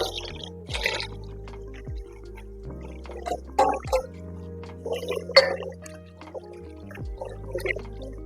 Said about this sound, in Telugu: బియ్యం కడుక్కుంటున్నాను.